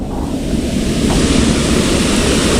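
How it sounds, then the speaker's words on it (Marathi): A flooded river surges past in a loud, continuous rushing roar of turbulent water, steady throughout with no talk over it. "हे बघा पाणी आहे ना आता हे पाणी कधी पण वाढू शकतं"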